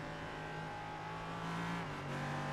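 An LMP3 prototype race car in a two-hour endurance race at Spa-Francorchamps, its engine droning at moderate revs through a corner, a loud sustained buzzy note that shifts pitch slightly as the driver changes gear early, with no talk.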